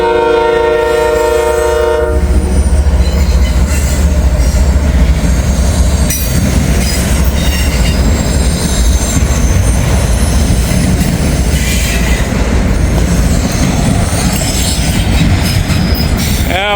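A Norfolk Southern mixed manifest freight train rolls past close by, a horn blast fading early into a loud, continuous rumble of wagons, rhythmic clacking wheels and occasional high squeals.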